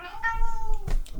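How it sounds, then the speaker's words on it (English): A house cat meows once with a drawn-out, falling cry, close and clear, followed by a brief rustle, with no talking over it. "that's my cat, I'm sorry."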